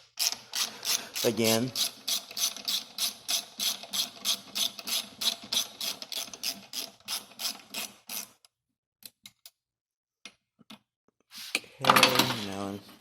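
Ratchet wrench unscrewing bolts while repairing a Polaris Predator 500 ATV, a fast regular clicking run for about eight seconds, then scattered clicks, a near loud clatter at the end and brief talk.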